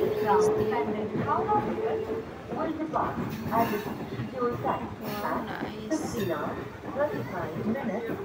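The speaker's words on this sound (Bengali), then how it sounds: "ট্রেন যাচ্ছে" At Bandel Junction, a train rumbles and clatters past below an overbridge, loud and steady throughout, with people talking over it.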